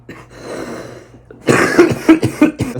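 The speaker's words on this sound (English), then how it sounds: "Still the sickness cough lingering over on me" Several harsh, close coughs from someone getting over an illness, coming in a quick rhythm after a quieter stretch of breathing and throat noise.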